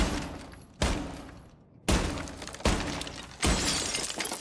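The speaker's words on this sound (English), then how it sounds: "I just want to break the glass that's on the other side of this barricade." Gunfire in the Rainbow Six Siege video game shatters glass in four sharp, loud bursts, each followed by a crackling spray of breaking glass that trails off before the next.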